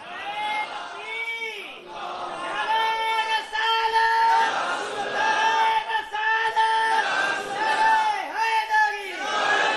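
Large crowd chanting a religious slogan in unison, loud repeated rhythmic calls with strong tonal voices rising and falling across the whole stretch.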